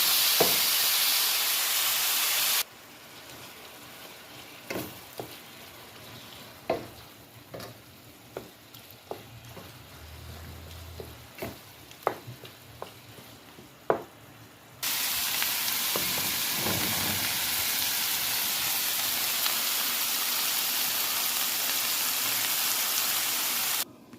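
Ground beef in a pan, sizzling loudly and steadily at first, then quieter with scattered pops and clinks while the pan is covered, before the loud frying hiss returns.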